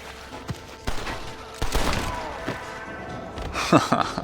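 Gunfire in the Western video game Red Dead Redemption, a scattered run of sharp shots and thuds at uneven intervals, some near and punchy, others softer, with a busy crackling exchange in the middle.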